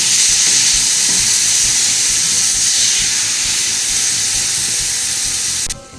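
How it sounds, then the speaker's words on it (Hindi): Small bite-sized chicken pieces fry in a pan for a chicken tikka pizza, giving a loud, steady, close sizzle with no talking, before it cuts off abruptly near the end. "इसको भी हम फ्राई कर लेंगे।"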